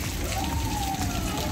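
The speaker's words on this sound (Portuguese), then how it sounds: "tá chovendo bastante" Heavy rain falls steadily as a broad, even hiss with a faint tonal whine drifting through it, loud and continuous for the whole short stretch.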